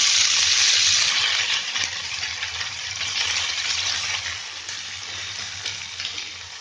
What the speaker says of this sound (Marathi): आपण हे सगळं फोडणीला देताना आहे ना आरामात द्यायचे, कारण काय माहिती आहे तेल सगळं आहे ना अंगावर उडतो